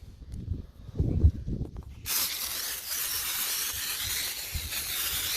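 A homemade foam cannon soap sprayer blasts from its adjustable nozzle as a steady, loud hiss that starts abruptly after some low wind rumble and handling noise, then holds on continuously.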